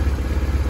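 A 1999 BMW R1100RT motorcycle engine idles close by, its steady low throbbing pulse loud and even, with light mechanical clatter inside a shut garage.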